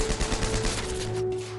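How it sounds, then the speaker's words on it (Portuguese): Machine gun fire in a WWII battle on 4 May 1945, a dense burst of rapid shots with a steady tone underneath, loud and close, lasting under two seconds with no talk. "Ao som de outros disparos de metralhadora, os oficiais se apressam."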